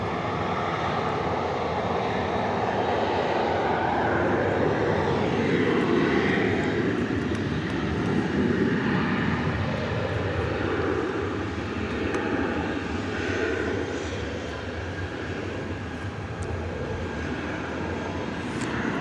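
Airplane engines at DFW airport at night make a loud, continuous jet roar that swells and eases over nearly twenty seconds.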